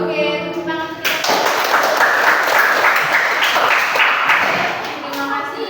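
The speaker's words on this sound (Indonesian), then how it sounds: "Oke, tepuk tangan untuk kita." An indoor crowd, including children, breaks into loud applause after a voice briefly speaks, a dense burst of clapping that holds steady and then tapers slightly.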